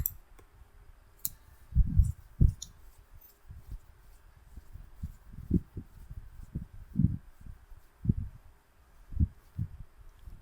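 A computer mouse clicks repeatedly while a file is opened, with sharp close taps in irregular bursts over quiet background noise.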